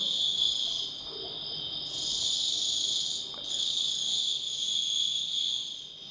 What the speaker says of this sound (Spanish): cómo el sonido del grillo va dando paso a la profundidad de la noche